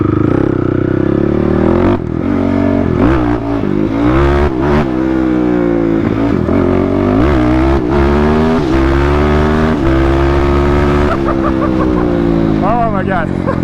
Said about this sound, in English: I'm shifting with no clutch on a TRX 450R.